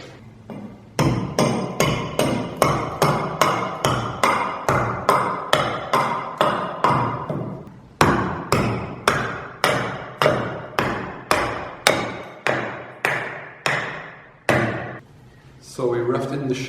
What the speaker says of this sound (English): So we roughed in the shape using the axe.